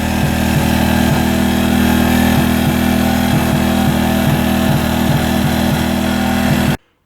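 Suzuki Quad Runner engine running on its first start, a loud steady buzzing idle with regular low pulses and occasional stumbles, close by, then cutting off abruptly at the end.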